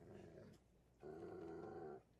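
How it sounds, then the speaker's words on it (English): Dog growling in an anime episode, two low, sustained rumbling growls separated by a brief pause, the second louder and steadier, with no voices. "yeah, growl at him. The dogs know."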